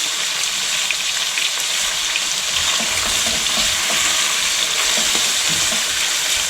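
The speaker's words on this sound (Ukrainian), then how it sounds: "М'ясо обсмажилося, перевертаємо його на другий бік." Meat sizzles loudly and steadily in a hot pan as it is fried and turned over, with a continuous crackling spatter throughout.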